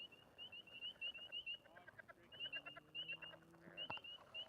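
Frogs croak by the water at a wooded fishing spot, a steady chorus of repeated calls pulsing alongside chirping birds, moderately distant, with a few faint tonal sweeps and a brief sharp knock near the end.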